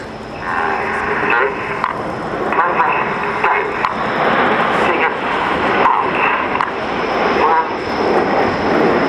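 Jet aircraft of the Red Arrows display team flying a display at the Royal International Air Tattoo 2013, a steady loud roar with swelling passes, heard under a commentator's voice throughout.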